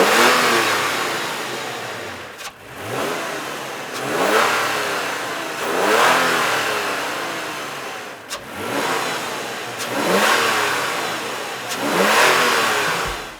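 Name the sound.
Toyota Tacoma engine revving with TRD cold air intake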